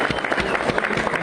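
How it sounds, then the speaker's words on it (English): A small audience at an automotive technician tech-talk event claps briefly, producing a short burst of scattered, close claps with an uneven rhythm. "So round of applause for Mike."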